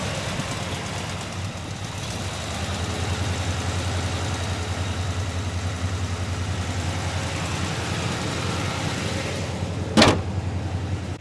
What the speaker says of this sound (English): We're going to fire it up right now.